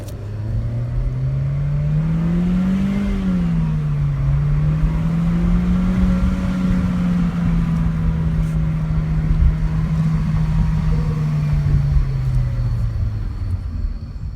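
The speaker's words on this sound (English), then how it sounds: "Dropping gear 1. In manual is where you get the best turbo out of it," A 2017 Chevy Sonic's turbocharged engine revs loud and close in first gear in manual mode, a sustained droning growl that climbs, dips briefly, then holds steady before easing off, with no voices.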